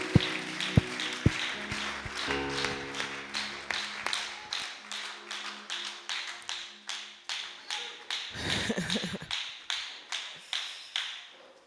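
A congregation claps hands at a church service in a steady, even rhythm that keeps going throughout, with a brief swell of voices near the end.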